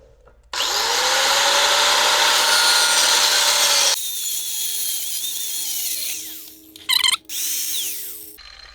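Trigger-grip angle grinder with a guarded cutoff wheel cutting metal: a loud sustained whine for about three seconds, then a lower spin-down and a short sharp burst of cutting near the end.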